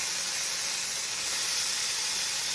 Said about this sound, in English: I need to throw in, oh, I love this sound, some bacon into the pan